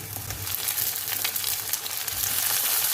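Chopped tomato hits a pan of sautéing vegetables and a loud, continuous hissing sizzle fills the clip, steady and close, with no voices.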